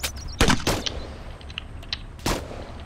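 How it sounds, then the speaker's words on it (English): Gunfire from friendly forces in a military video game operation: a few sharp shots and short bursts spread across about three seconds, moderately distant over a low background rumble, with no talk. "They're currently firing over your heads."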